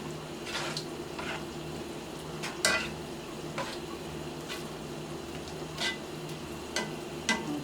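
Plant-based ground meat for spaghetti is stirred around in a hot pan. Soft sizzling runs steadily underneath scattered scraping clicks of a utensil against the pan, with no talking.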